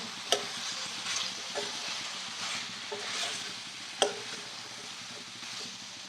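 A spoon stirs chili powder into kakarakaya pulusu, bitter gourd curry, in a pan, giving soft scraping and sloshing under a faint sizzle, with a few sharp clinks of the spoon against the pan rim.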